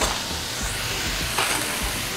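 Potatoes and sweet potatoes being stirred in a hot pan for a chowder, a steady close sizzle with soft scraping and shuffling strokes, no voices.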